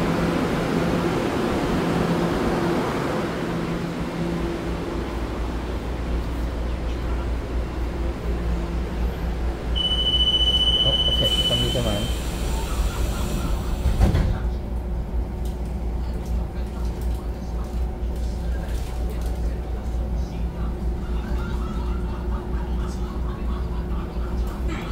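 A Taiwan Railways electric train pulls away from the platform, a steady broadband rumble with faint electric whine building beneath it, and a brief sharp clank midway.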